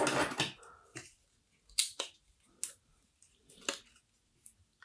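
Film leader is snipped while a 35mm film cartridge is hand-rolled at home, with a few close, crisp cuts and small handling clicks separated by brief pauses.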